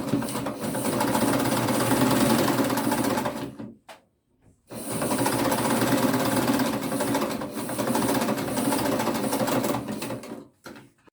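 A sewing machine stitches the sides of a pair of shorts in two loud, steady mechanical runs, separated by a brief pause, before stopping near the end.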